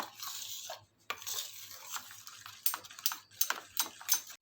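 A spoon stirs vitamin E from a capsule into a homemade neem soap mixture, giving a string of light scraping clinks and taps against the container, close and fairly quiet, with a brief pause near the start.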